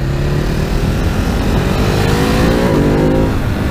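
A 2019 Ducati Hypermotard 950 motorcycle engine pulls hard under acceleration, its loud, close tone climbing steadily with a gear shift partway through, over constant wind rush.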